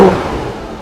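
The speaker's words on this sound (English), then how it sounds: "See how quick this thing revs?" A sports car engine revs quickly and then falls away, a short, loud burst near the car that fades into a low idle.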